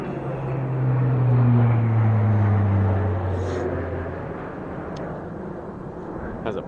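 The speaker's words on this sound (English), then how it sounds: "As a plane goes over." A propeller-driven airplane passes overhead: a loud, low drone that swells and then slowly falls in pitch as it fades into the distance.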